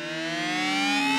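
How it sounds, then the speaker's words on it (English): An electric guitar swells through a Boss Harmonist pedal, its harmonised sustained tone gradually rising and growing louder alone for about a second. "So this is a Boss Harmonist pedal."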